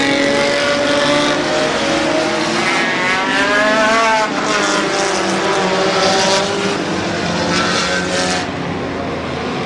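A pack of race cars roars around the oval in a 100-lap enduro at Midvale Speedway, loud and continuous engine drone with rising and falling revs as cars pass close by, no talking.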